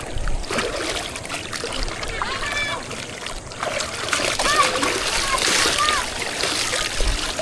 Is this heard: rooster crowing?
no